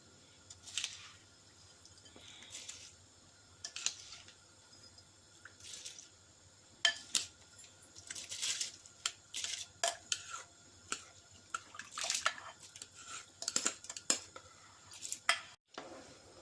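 Soaked rice is poured into a pot of boiling water on a high flame while cooking sweet yellow zarda rice, heard as soft scattered patters, splashes and clinks against low steady background hiss.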